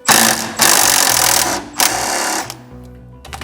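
A power tool with a socket drives out a suspension bolt on an MK3 Toyota Supra, with a 19mm wrench and socket on the job. It makes loud, close, rapid hammering bursts that stop and start, then trail off into quieter rattling.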